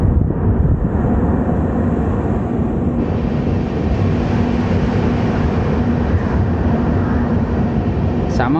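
The Kochuveli–Yesvantpur AC superfast express runs at speed on the main line near Kayamkulam, a loud, continuous rumble and roar of wheels on rail heard from on board, steady throughout, with a brief squeal near the end.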